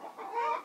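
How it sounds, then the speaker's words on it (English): Hens in the mountains of California give a brief burst of loud, close clucking after laying an egg, rising to a busy peak before easing off. "Excuse my chickens, they've laid an egg again."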